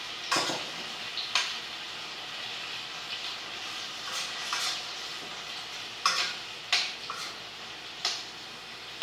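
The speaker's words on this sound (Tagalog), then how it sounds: "Igisa muna natin guys" Vegetables with carrots are sautéed in a home kitchen pan: a soft steady sizzle runs throughout, broken by sharp clinks and scrapes of a utensil stirring against the pan at irregular moments.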